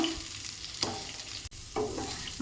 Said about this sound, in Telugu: ఆనియన్ కాస్త లైట్ గోల్డెన్ బ్రౌన్ కలర్ వచ్చేంత వరకు ఫ్రై చేసుకోవాలండి